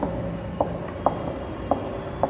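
Chalk or marker writing on a board during a biology lecture, with a few short sharp taps and strokes spaced irregularly over a low room hum, no talking.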